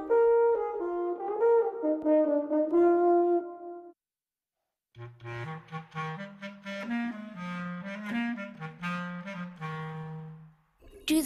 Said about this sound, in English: Little Whale sounds like this